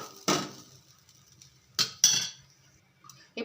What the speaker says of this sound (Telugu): ఇలా ఫ్రై చేసుకున్న దాన్ని ఒక ప్లేట్లోకి అయితే తీసుకుందాం